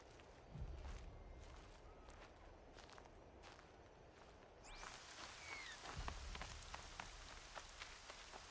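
Steady rain falling in the video game Horizon Zero Dawn, a dense even patter on surfaces throughout, with soft footsteps crunching underneath and occasional faint game sounds in the background.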